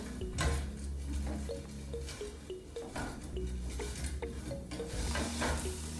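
Crispy chips being turned inside a Ninja Foodi Health Grill and Air Fryer, giving quiet clattering and scraping over a steady fan hum and light sizzle, close and low in level, with no talking.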